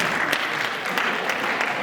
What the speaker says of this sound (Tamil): இந்த செயலுக்கு அருமையாக கைத்தட்டினதற்கு உங்கள் அனைவருக்கும் மிக்க மகிழ்ச்சி